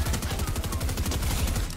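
Rapid gunfire from the video game Fortnite, a dense string of quick repeated shots in a fast steady rhythm, loud and close, lasting under two seconds.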